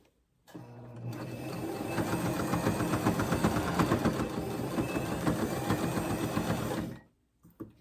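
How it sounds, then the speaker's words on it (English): A sewing machine stitches a bag strap in straight zigzag lines. It runs continuously and close for about six seconds, with a slight rhythmic pulsing, then stops abruptly. "you're going to do straight stitch zigzags up to the top"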